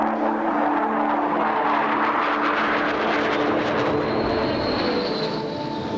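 Military aircraft roaring through the sky over White Sands Missile Range in the New Mexico desert during a large air power exercise, a loud continuous engine rumble and whoosh with a faint rising whine.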